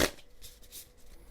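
Tarot cards being shuffled by hand, a brisk riffling flutter up close with a few quick papery bursts.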